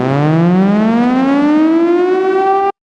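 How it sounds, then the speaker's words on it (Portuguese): A civil defense siren wails loud and clear, its pitch climbing steadily for nearly three seconds before cutting off abruptly. "é uma sirene de quando toda a esperança está perdida"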